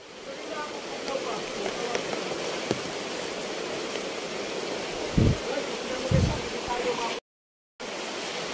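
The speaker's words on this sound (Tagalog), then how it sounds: "grabe ulan." Heavy rain falling outdoors, a steady broadband hiss throughout with a couple of low thuds partway through and a brief dropout near the end.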